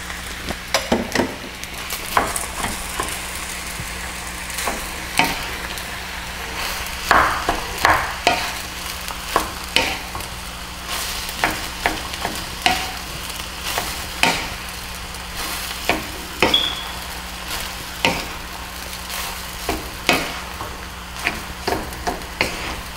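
Ground pork with soy sauce stir-fried in a pan for Chowking-style pork chao fan, with a steady sizzle and frequent scraping, clacking strokes of a spatula at an uneven rhythm, close and fairly loud.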